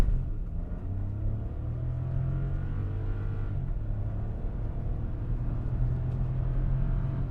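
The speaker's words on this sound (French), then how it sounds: "Voilà ce que ça donne quand on accélère à fond." Hyundai i20 1.0 TGDI 100 hp three-cylinder petrol engine under full-throttle acceleration, heard from inside the car as a steady low rumble and drone that rises gently in pitch, with no talking.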